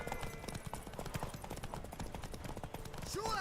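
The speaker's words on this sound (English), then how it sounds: "Want that horse, don't ya?" Horse hooves clip-clop in a steady, rapid rhythm across the ground in The Witcher 3 video game, close and fairly loud with game ambience around them and no talk over them.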